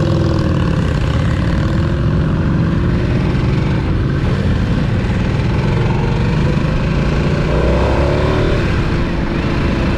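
A 2023 Harley Davidson Nightster Special engine running loud and close during a ride, a continuous low throbbing drone with pitch rising and falling as the throttle changes, plus wind rush.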